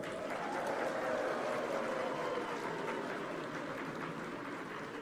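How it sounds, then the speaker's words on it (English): An audience at a Commonwealth women's forum opening session in Kigali claps steadily, a broad wash of many hands applauding at moderate volume without any voice over it, holding even for several seconds. "And ladies, let's give them a clap."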